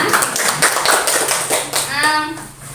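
A group of teachers claps together at an Indonesian school workshop, a busy stretch of overlapping hand claps lasting the whole moment, with a brief high squeal or voice near the end.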